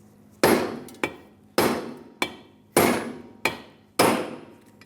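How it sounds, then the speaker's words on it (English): Metal clanks as a hammer strikes a stud on the rear brake backing plate of a 2003-2009 Dodge Ram 2500, seven sharp ringing blows at a steady pace, each decaying quickly, close and loud with no talking. "So take a hammer."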